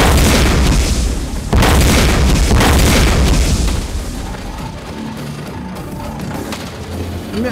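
Loud missile explosions boom in the Gungrave VR arcade shooter on PS5 PSVR, a heavy continuous blast rumble that drops to a lower roar after a few seconds.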